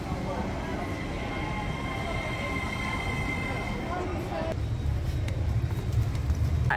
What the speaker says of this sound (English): Last train coming in